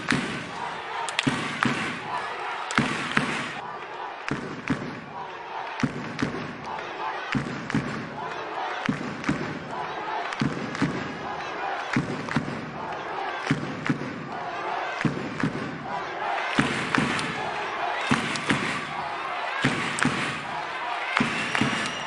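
Home crowd of about 1,200–1,300 filling a basketball arena during a Korihait playoff game, a loud, steady roar with rhythmic stomps or thumps pulsing through it and voices mixed in.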